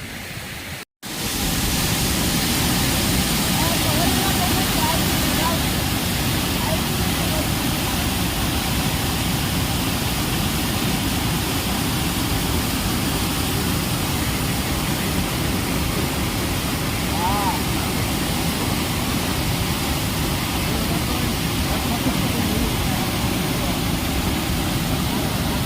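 Water rushing through the overflow outlet of a village lake, a loud, steady roar of churning flow that fills the whole stretch without pause after a brief cut near the start.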